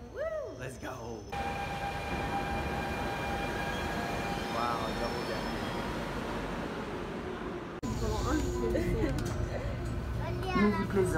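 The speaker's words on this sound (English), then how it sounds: "We are in the metro, gonna board line A" The steady rumble and rattle of a Paris RER line A double-deck train in motion fills the ride, with children's voices and chatter mixed in over the noise.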